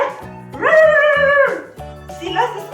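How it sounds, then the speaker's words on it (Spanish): A house dog barks loudly in a few drawn-out, whining bursts with a short pause between them, close and clear, with no talking. "Es el señor perrito. Él, cada vez que cuida la casa, ladra muy fuerte."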